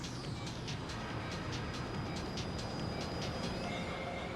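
A train rumbling past in the video game GTA 3, a steady low roar with rhythmic metallic clacks and faint wheel squeal, fairly quiet and continuous with no voices.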